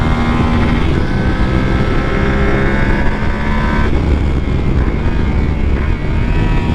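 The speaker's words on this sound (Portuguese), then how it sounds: "a embreagem deslizante fazendo o seu papel" A Yamaha Ténéré motorcycle riding through curves, its engine droning steadily and loudly alongside wind rush, with a slipper clutch engaging as the pitch shifts partway through; no voices.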